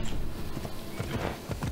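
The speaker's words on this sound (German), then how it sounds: "Dann hole ich mal mein Pferd." A horse in Assassin's Creed Odyssey walking with a steady clip-clop of hooves, soft and close over a busy game background, no talk.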